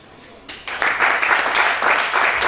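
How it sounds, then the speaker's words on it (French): A church congregation bursts into applause and cheering after a brief quieter moment, a dense, sustained wash of clapping that stays loud and fairly near to the end. "Acclamez Shaddai."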